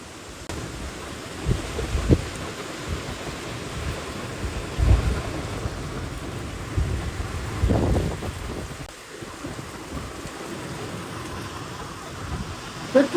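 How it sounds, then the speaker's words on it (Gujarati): Heavy monsoon rain pours down outdoors with gusty wind buffeting the microphone, punctuated by deep rumbling surges that swell and fade. "કેટલો વરસાદ છે બોલો."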